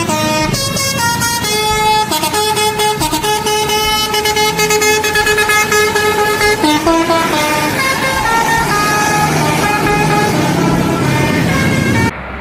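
A Laju Prima bus sounds its telolet horn, a loud close run of rapid musical horn melodies that keeps changing pitch for about twelve seconds over idling engine noise.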